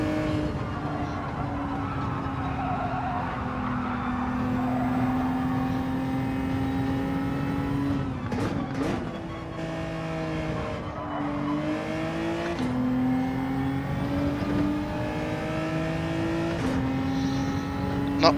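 Race cars in Gran Turismo 7 drone steadily through a lap, engines rising and falling in pitch with gear shifts and brief dips, sounding close and continuous throughout.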